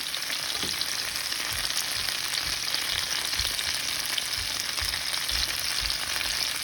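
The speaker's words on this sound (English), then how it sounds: "I'm going to add in an onion. This is a whole sliced large onion." A whole sliced large onion sizzles in a pan over medium heat for chicken fajitas, a dense continuous crackle close up with soft stirring bumps and scrapes, no voices.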